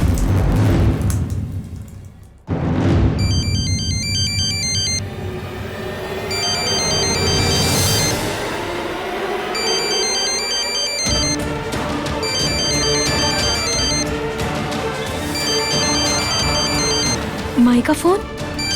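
A phone ringtone chimes in repeating electronic bursts, loud and close, during a Hindi TV drama scene with dramatic music and sound effects swelling around it.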